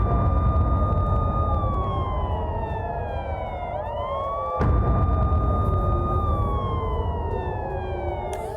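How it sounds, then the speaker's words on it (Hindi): A loud wailing air raid siren in Israel during Iran-Israel hostilities, rising and falling in long sweeps, steady and continuous over a low rumbling background. "आप देखिए एयर रेड सायरन की आवाज आपको"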